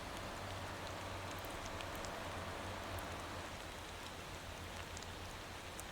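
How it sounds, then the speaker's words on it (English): Rain falls steadily in the Motor Town driving game, a dense even hiss of drops on surfaces with a low engine hum underneath, faint and continuous throughout. "it's starting to rain and that's just not what I needed here"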